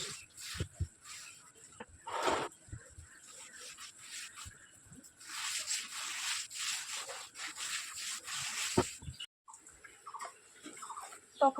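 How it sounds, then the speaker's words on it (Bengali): Dishes being washed by hand, with irregular scrubbing and rubbing strokes, light clinks and splashes of water, fairly quiet and close, without talk. "এখন বাসন ধুতে এসেছি"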